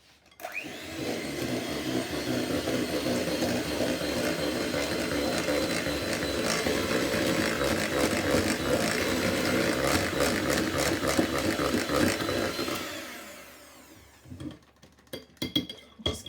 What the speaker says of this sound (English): I'm going to blitz all of this up with a handheld electric mixer like so.